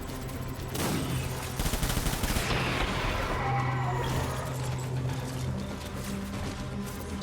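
Sustained gunfire in the video game Death Stranding, a dense, loud fusillade of rapid shots and bursts that keeps going for several seconds, with other game sounds layered over it.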